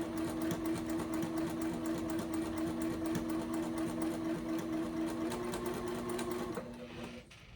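Sewing machine running steadily as it stitches strap connectors for a bag, a close continuous mechanical hum and whir lasting several seconds before slowing and stopping near the end, with no talk.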